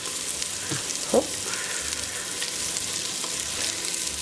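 Mushrooms sizzling in a hot pan as their moisture cooks off for cream of mushroom soup, a steady broad crackling hiss with a brief clatter and a short spoken exclamation.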